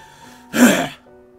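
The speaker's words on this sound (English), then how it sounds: "I had to clear my throat a little bit" A single throat clear lasting about half a second, close and fairly loud, rising abruptly from a quiet room background and fading quickly, with no talk over it.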